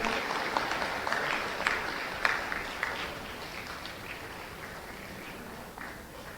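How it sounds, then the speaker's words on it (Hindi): Audience applause in a large hall at a government ceremony, a fairly quiet, even patter of clapping with a few sharper claps. "एक बार पुनः झाबुआ जिले के लिए जोरदार तालियां हो जाएं"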